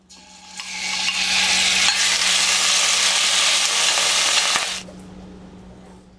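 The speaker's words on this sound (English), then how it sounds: "Then I'm going to add the beef and let it brown for a few minutes." Beef browning in a pan with sesame oil gives a steady, bright sizzle that swells in after a moment, holds for a few seconds, then cuts off abruptly, leaving a faint low hum.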